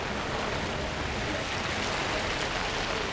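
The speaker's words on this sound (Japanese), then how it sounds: "強く降ってきましたね。 雨が本当にね、" Heavy rain pours onto a Tokyo street between Ikebukuro and Otsuka, making a dense, steady hiss that fills the whole clip at an even loudness, with no voices.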